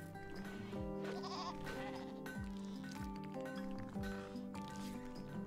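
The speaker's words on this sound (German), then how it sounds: "fängt erstmal wieder die ganzen Schafe ein." Sheep bleat in the video game RimWorld. Several short, wavering calls are quiet and rise and fall in pitch over a soft tonal game background.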